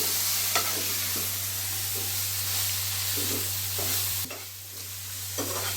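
Maggi masala with chilli powder is stirred and fried in a pan, making a continuous soft sizzle and hiss with intermittent scraping strokes of the spoon. The cooking is close and fairly quiet, with no talk.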